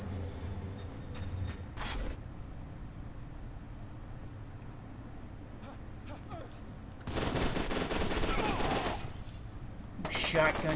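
Shotgun blasts in the video game FEAR 2, a sharp short burst early on, then a longer loud volley of firing and a final blast, with quieter game ambience between them.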